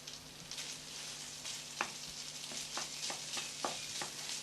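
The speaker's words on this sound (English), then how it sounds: "So we now add the rice to the egg mixture." Long grain rice fries with egg in a hot pan, giving a steady close sizzle with scattered sharp clicks and taps as it is stirred and chopped.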